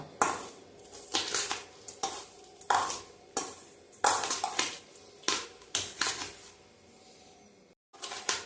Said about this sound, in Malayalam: ഇനി ഇത് നമുക്ക് നന്നായിട്ട് മിക്സ് ചെയ്ത് കൊടുക്കാം